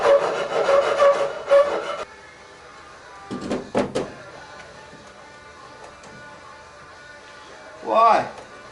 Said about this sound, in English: That end of the bracket is a bit tall. Just go file a smidge off it.